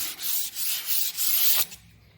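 Close, even back-and-forth strokes of 320 grit sandpaper scuffing vehicle paint, a raspy rhythmic rubbing that stops abruptly.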